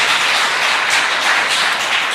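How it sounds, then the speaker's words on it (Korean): Steady applause of thanks from a church congregation at a Sunday service, continuous and fairly loud, with many hands clapping together for the whole stretch. "감사의 박수를"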